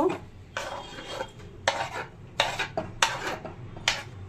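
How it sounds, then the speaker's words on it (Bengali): A spoon scrapes and stirs through khichuri in a pan as chopped onion goes in, in repeated loud, close bursts of rasping, clattering metal against the pan. "এবার এর মধ্যে কুচিয়ে রাখা পেঁয়াজ দেব"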